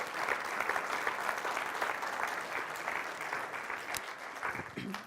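An audience in a hall breaks into sustained applause for mothers, with dense, even clapping that stays fairly loud before thinning slightly at the end, alone without speech.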